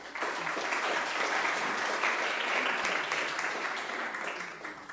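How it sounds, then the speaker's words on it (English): At an international law moot court judgment and awards ceremony, an audience applauds the volunteers with sustained, even clapping from a crowd in a hall, filling the whole stretch. "We saw you and we applaud you."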